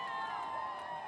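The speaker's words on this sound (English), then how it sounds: "here's the crowd saluting the captain" A dense, distant crowd at a Tampa Bay Lightning Stanley Cup boat parade roars steadily in salute of captain Steven Stamkos, a continuous wash of cheering and whoops.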